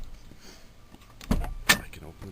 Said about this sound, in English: I can open the door from the outside.